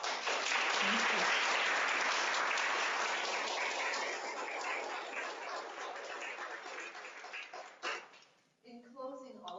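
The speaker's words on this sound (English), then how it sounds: "So let's give her a round of applause." Sustained, loud applause from a university lecture audience at Dalhousie University, a dense wash of clapping that gradually fades, then gives way to a voice speaking at the end.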